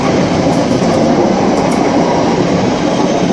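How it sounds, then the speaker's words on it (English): Class 323 electric train arriving at Cheadle Hulme station, a loud close rumble of wheels on rails with a steady rolling roar throughout and no talk over it. "And now arriving, and we've got the 11 o'clock service, 10:59, 323-235 after Stoke on Trent."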